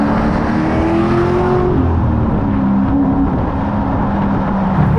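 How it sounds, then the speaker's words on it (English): A 650 hp track-prepped C6 Z06 Corvette engine blips the throttle on a downshift under braking, a loud, steady close-up engine roar with a slight rise in revs. "I'm half on the brake and just a little blip like that for a downshift"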